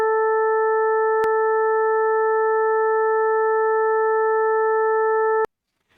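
A steady synthesized tone built in Pure Data, a fundamental with several added upper harmonics stacked above it, giving a bright, slightly nasal sustained sound that holds for over five seconds with brief clicks at the start and end.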